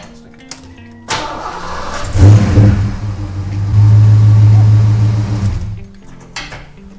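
A 1989 Ford Mustang Fox Body engine cranks and fires up after a few clicks, revs loudly once, then settles into a rough idle before being shut off, close and alone.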